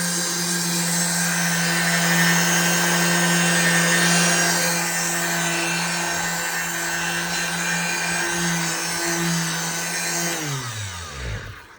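An electric sander works an epoxy countertop with a loud, steady motorized whine and grinding hiss, then spins down in pitch as it switches off near the end.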